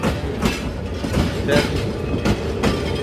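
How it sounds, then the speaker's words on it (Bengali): A Parabat Express train to Sylhet rumbles past close by at Noapara railway station, wheels clattering in a rapid repeating rhythm over a heavy, continuous roar. "সিলেট লাইনে মানে ট্রেন যাইলে ভীষণ আওয়াজ হ্যাঁ"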